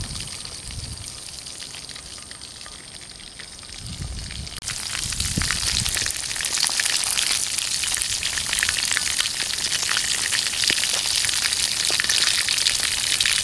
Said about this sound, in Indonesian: Ikannya lagi goreng.